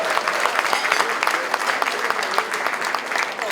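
An audience at an inaugural lecture applauds steadily, with dense, close, continuous clapping throughout and no pause.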